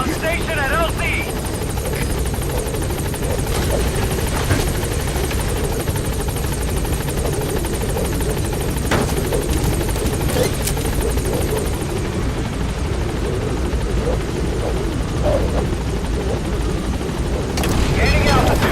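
The Pequod helicopter hovers at a landing zone in Metal Gear Solid V, its rotor throbbing loudly and continuously, with scattered thumps and bursts of noise laid over it and a voice speaking over the top.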